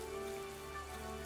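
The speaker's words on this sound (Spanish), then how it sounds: "¡Está lloviendo!" Steady, soft rain patters evenly throughout the Pokémon Shield game world, a faint continuous hiss with no other sounds standing out.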